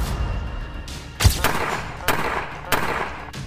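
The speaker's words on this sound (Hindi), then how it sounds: "दुल्हन ने तमंचा तो चला दी" A bride fires a country-made pistol at a wedding in Uttar Pradesh. Three or four sharp, loud bangs ring out at irregular intervals over a murmuring background.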